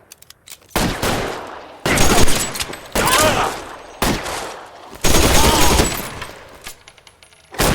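Repeated bursts of gunfire during a shootout in the video game LA Noire, with loud volleys of rapid shots separated by brief pauses.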